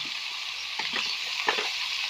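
Banana flower fries with ginger and garlic in a pan, giving a steady soft sizzle broken by a few scraping stirs near the middle and end.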